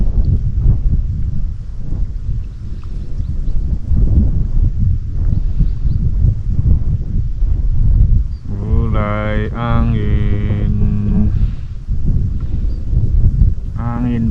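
Stormy wind buffets loudly and continuously on a fishing trip at Sendang Jambe island, with a brief voice partway through.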